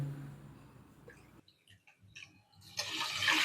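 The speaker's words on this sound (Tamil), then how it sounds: "குக்கரில் வந்து நம்ம தண்ணி அளந்து ஊற்றிக்கலாம்" Water poured into a pressure cooker for sweet pongal, a brief splashing trickle that swells into a louder, steady rushing pour near the end, heard up close with no talking.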